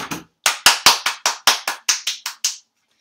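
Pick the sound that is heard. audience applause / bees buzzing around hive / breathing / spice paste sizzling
audience applause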